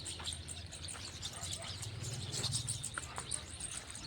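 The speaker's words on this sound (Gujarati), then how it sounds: "પંખી સકલા બોલે છે આમ બધા આંબલીમ બેઠા" Several birds sitting in tamarind trees chirp and call in short, scattered bursts at a distance, over a steady outdoor farm background with a low voice underneath.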